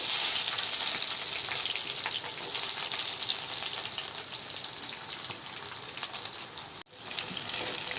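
Onions sizzle in hot oil in a pan for egg biryani, a loud steady frying hiss and crackle that runs continuously close by, with one brief dip near the end before resuming.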